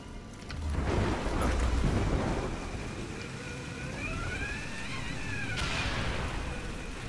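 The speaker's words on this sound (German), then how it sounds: "Ich glaube, das war ein Blitz." Thunder from a lightning strike in the Tomb Raider video game: a loud, broad rumble swells early, then fades into a noisy background where rising whistle-like tones come and go.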